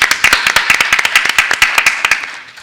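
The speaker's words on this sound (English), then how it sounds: "Another round of applause" A panel audience claps in a fast, loud run of sharp, distinct hand claps. The beats come close together at a fairly even pace and nothing else is heard.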